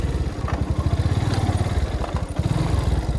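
Motorcycle on a solo ride, its engine thrumming in a fast, even pulse up close, with steady rumble and light mechanical clatter throughout and no talking.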